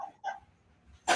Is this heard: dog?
yes